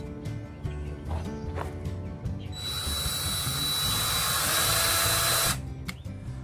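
A power drill whirs steadily for about three seconds, driving a screw into a wooden shed ramp, preceded and followed by light knocks and handling noises nearby.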